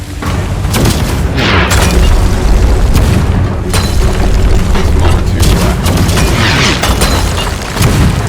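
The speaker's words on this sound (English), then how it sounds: "A lot of them will be shooting cannons from the other end." Cannons firing during a ship battle in the pirate video game Sea of Thieves, heavy booms and bursts recurring throughout under dense game noise, with a voice talking over them.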